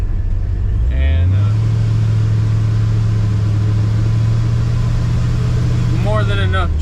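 5.3 engine with gapped rings running, a loud steady low drone that begins after a second and holds for about five seconds, with someone talking over it at the start and end.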